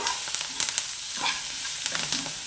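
Onions frying in a pan with curry leaves added, a steady close sizzle and crackle with brief stirring scrapes throughout, no talking.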